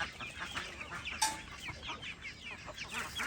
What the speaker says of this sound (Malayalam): നമ്മളെ പഴയ കുറച്ച് കോഴികളുണ്ട് അവരെ നമ്മളിതാ ഈ ഒരു ഭാഗത്ത് വെച്ചിട്ടുണ്ട്